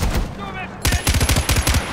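Far Cry 4 gameplay with bursts of machine gun fire: a brief shot early on, then a rapid rattling volley of close, loud shots in the second half.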